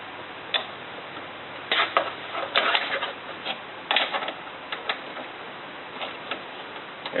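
Tool loosening bolts inside a car door while removing a power window regulator, a series of quiet clicking ticks in irregular bursts, close and faint with no talking.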